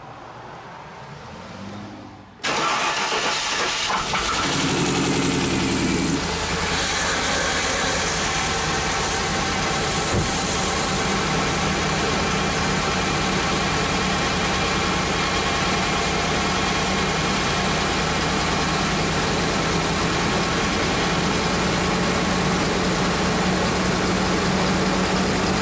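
A Land Rover engine cranks briefly, catches and settles into a loud, steady idle with a rough, uneven misfire after a power steering pump replacement, running close by with no talk.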